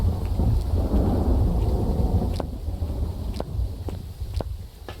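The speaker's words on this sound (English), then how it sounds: "This thunder is just really driving me nuts." Deep rolling thunder rumbles in the video game Phasmophobia, with steady rain beneath and several sharp cracks in the second half, loud and close with no talking.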